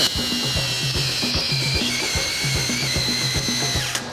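A Ryobi angle grinder with a fresh 40 grit flat disc whines loudly and close up while grinding, a steady high motor tone over rapid rhythmic pulsing and rattling from the disc on the workpiece.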